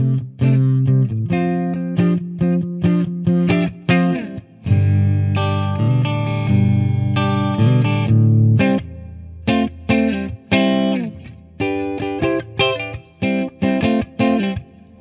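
Distorted electric guitar, an Epiphone Les Paul Special Double Cut on its middle pickup setting, playing loud chords and riffs with sustained notes and abrupt stops, a gritty overdriven tone.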